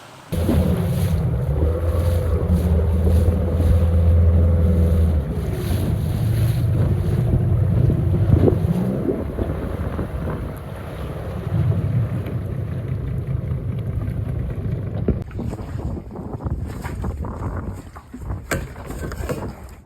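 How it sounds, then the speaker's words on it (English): A boat engine drones steadily under heavy wind buffeting and splashing water off Lombok, Indonesia, the hull thudding over choppy waves for a long stretch. "Okay, so back on the boat now. A little bit of a bumpy ride back across."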